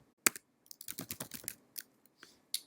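Login details being typed on a computer keyboard for the FamilySearch website: a quick, uneven run of crisp key clicks close up, with a few isolated taps after it and no talk.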